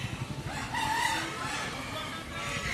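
Roosters crow at the Braminipal Sunday rooster market, a rising crow standing out over a busy crowd murmur and nearby clucking.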